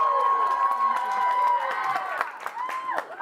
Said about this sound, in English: So cheer for the loudest who you think is going to win.